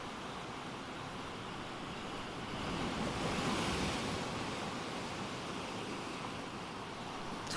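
Sea waves and surf roll onto a shore at the seaside, a continuous broad wash of noise that swells louder in the middle before easing back, with wind and no voices.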